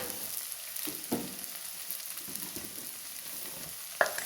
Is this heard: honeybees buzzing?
no